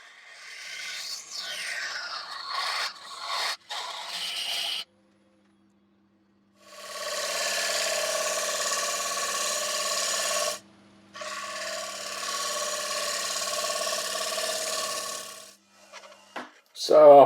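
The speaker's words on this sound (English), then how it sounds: "I'm just hollowing it out now with a carbide, the Axminster Evolution, because there are some frilly bits" A carbide tool hollowing a natural-edge yew bowl on a wood lathe gives steady rasping, scraping cuts in two long bursts separated by a short pause, preceded by brief scattered scrapes and taps.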